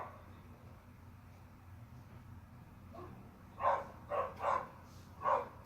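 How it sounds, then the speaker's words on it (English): Two dogs, one of them an excitable visiting pet, bark outdoors at a moderate distance, four sharp barks coming in quick bursts after a few seconds of quiet background hum. "I had some dogs outside."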